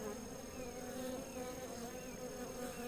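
A honeybee swarm clusters at the front of a hive entrance, producing a continuous, steady droning buzz of many bees close by, fairly quiet and with no talking over it.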